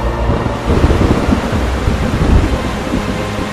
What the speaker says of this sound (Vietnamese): Sao bỗng nhiên mưa to vậy nè?